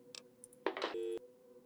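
A telephone inside an NCR building in Fallout: New Vegas: brief faint tones, a click, then a short steady electronic ringing tone that cuts off abruptly, quiet and with no talking.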